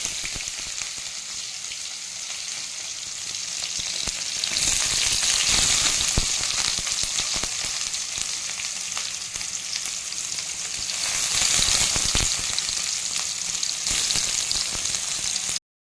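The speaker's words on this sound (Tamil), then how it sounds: "கட் பண்ணி வச்சுருக்க பெரிய வெங்காயத்தை சேர்த்துருவேன்" Onions frying in hot oil with mustard seeds and urad dal, a steady close sizzle with soft crackles that swells louder twice, as though stirred, with no talking.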